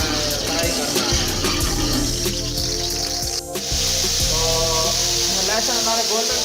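Garlic frying in a pan for chicken egg fried rice gives a constant bright sizzle with steady crackle, close and fairly loud throughout.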